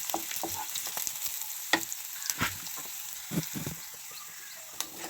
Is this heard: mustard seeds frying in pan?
yes